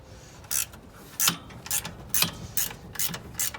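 A wrench works on the bolts of the power steering belt on a 1971 Ford F100 engine, giving about seven short, close ratcheting rasps in an uneven rhythm, fairly quiet against a low background.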